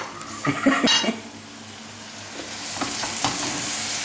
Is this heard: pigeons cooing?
no